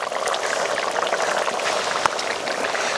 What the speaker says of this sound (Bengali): অল্প পরিমাণে একটু জল দেব।